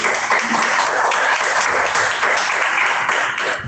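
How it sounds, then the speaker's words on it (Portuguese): A church congregation claps together in sustained, dense applause, steady and loud throughout with no pauses, as at a worship service praising Jesus. "Dê uma salva de palmas porque Jesus merece."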